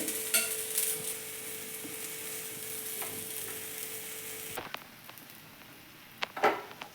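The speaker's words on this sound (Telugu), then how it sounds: "ఫస్ట్ లో ఫ్లేమ్లో ఫ్రై చేసుకుని తర్వాత మీడియం ఫ్లేమ్లో చేసుకున్నామంటే బాగా రోస్ట్ అవుతుంది" Radish dosa frying on a hot pan, a steady close sizzle for several seconds that thins out near the end, followed by a few brief scraping clatters of a spatula.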